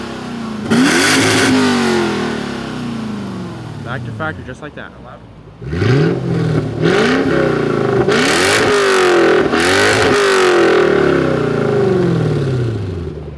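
A Lexus LS430 V8 with a custom, nearly straight-piped exhaust revs in repeated bursts, each rising then dropping back, smooth rather than screaming, loud and close, with people talking between and over the revs.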